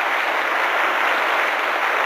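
Studio audience at a televised championship jazz contest between Gene Krupa and the Dukes of Dixieland breaks into dense, sustained applause, a steady wash of many hands clapping without a break.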